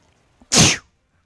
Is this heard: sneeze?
yes